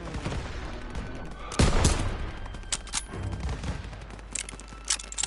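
Dense gunfire from a Call of Duty: WWII battle, with rapid shots crackling over a constant low rumble, a heavy blast near the middle, and bursts of fire continuing loud and close to the end.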